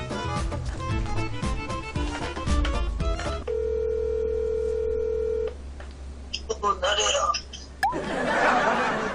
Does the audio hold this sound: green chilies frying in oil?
no